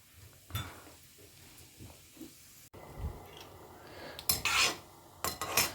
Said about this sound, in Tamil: இப்போ நம்ம லேசாக எண்ணெய் சுட ஆரம்பிச்செடுத்து இப்போ 1 டீஸ்பூன் கடுகும் ஒரு 3/4 டீஸ்பூன் ஜீரகமும் போட்டுக்கலாம்.